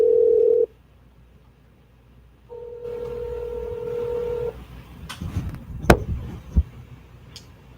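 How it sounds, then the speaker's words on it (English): A telephone call is placed on a live sports talk show: a steady dial tone, then a longer keypad tone sequence, followed by clicks and a few sharp handset knocks; no one speaks. "I'm going to make the call to the Primo brothers and see if I can get both of them on the horn right away."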